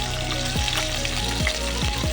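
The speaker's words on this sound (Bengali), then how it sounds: "পটলগুলোকে হালকা করে ভেজে নেব" Halved pointed gourds with some peel left on, frying lightly in hot oil, giving a steady close sizzle with occasional soft stirring scrapes.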